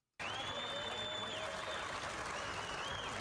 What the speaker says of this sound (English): Here's the officers applauding the people who knocked down the 75-year-old man